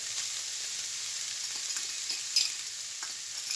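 Onions and peppers fry in a pan for lasagna filling, giving a faint, steady sizzle with a few soft stirring scrapes and one brief clink.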